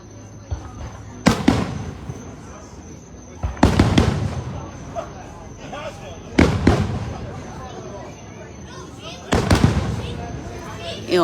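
Loud New Year fireworks explode in four big bursts a few seconds apart, each with a crackling tail, while a crowd murmurs and people talk in the background.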